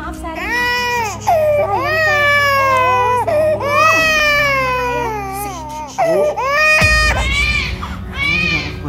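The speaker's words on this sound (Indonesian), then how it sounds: "Kamu juga anak bayi, wajar lo kalau nangis kayak gini." An infant cries loudly and close up in repeated wailing bursts with short gasping breaks, continuing throughout indoors.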